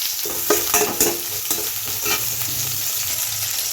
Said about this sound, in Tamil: இப்போ கறி லீஃப் போட்டிருக்காங்க, ஆனியன் ஆட் பண்ணியிருக்காங்க